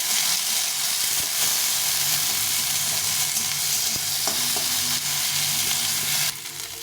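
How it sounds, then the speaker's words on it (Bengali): Sliced potato and onion sizzle steadily in hot oil in a pan while frying lau peel, a loud continuous crackle with a few light stirring knocks near the end. "আলুটা একটু ভেজে নিয়েছি"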